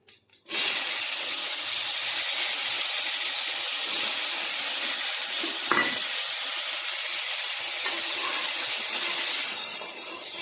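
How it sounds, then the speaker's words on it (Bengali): Potatoes sizzle steadily in a hot pan with turmeric and salt after a bay-leaf tempering, a loud continuous frying hiss with a brief stir clatter partway through and no voices. "একই রকমভাবে অল্প হলুদ আর নুন দিয়ে আলুগুলো একটু ভেজে নেব।"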